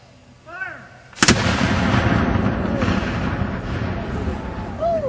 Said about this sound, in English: That, of course, is the discharge of just a single gun.